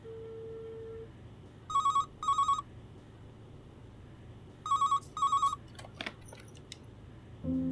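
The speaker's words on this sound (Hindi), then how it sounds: "फोन उठाओ हमजा।" A telephone rings indoors in a drama scene, two paired bursts of bright electronic trilling separated by a pause, followed by a few soft clicks and handling noises as the call is picked up.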